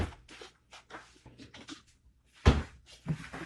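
Kitchen drawer opened and rummaged through while looking for a quarter-cup measure, giving a run of light clatters and knocks with one louder thunk midway, close by and fairly quiet.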